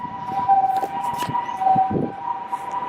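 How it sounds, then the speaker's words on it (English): An emergency siren wails at a steady pitch somewhere in a Japanese city street near Sendai, moderately distant, with traffic rumble and scattered thumps beneath it. "That's siren."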